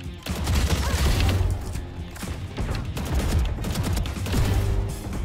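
Rapid gunfire from rifle and shotgun in Valorant, loud close bursts in quick rhythmic volleys, shot after shot with no talking.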